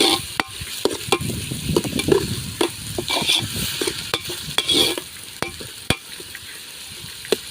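Onions sauté and sizzle in a pan at a farm-field cooking spot, with a spoon scraping and stirring in steady repeated strokes, close and fairly loud, and no talking.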